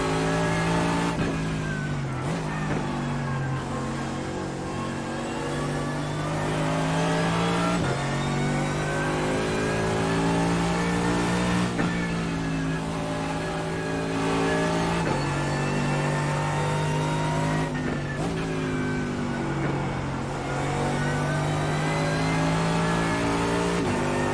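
A race car engine revving in the iRacing sim racing game, loud and continuous, droning at steady pitch with repeated sharp gear-change dips and climbs, running alone without talk.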